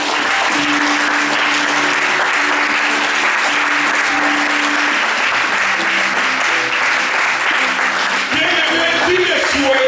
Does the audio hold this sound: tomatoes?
no